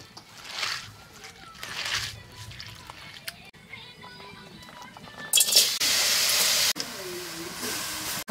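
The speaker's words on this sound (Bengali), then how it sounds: "কপি ধুয়ে নেব" Cabbage being washed in water for a cabbage and egg masala curry: sloshing and splashing that grows louder and fuller near the end, with faint voices in the background earlier.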